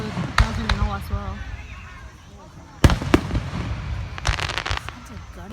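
Fireworks display in Alice Springs: sharp, fairly close bangs in scattered bursts, a couple of loud cracks and then a quick rapid cluster, echoing over a steady crowd murmur while people chat nearby.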